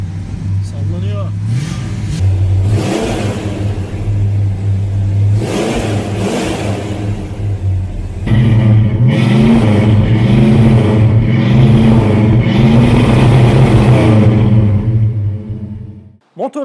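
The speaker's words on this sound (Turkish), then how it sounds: "Motorumuzu da çalıştırdık arkadaşlar." A 1968 Dodge Charger R/T 440 with a 7.2-litre V8 idles with a deep lumpy burble, then revs repeatedly in loud surges before cutting off near the end; a voice talks over it.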